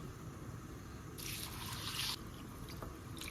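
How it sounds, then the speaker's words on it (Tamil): Thick poha (flattened rice, aval) being rinsed in water, a soft squishing and dribbling of wet flakes with faint drips, brief and close, with no talking. "ஃபஸ்ட்டு இதை 2 தடவை நல்லா வாஷ் பண்ணிக்கலாம்."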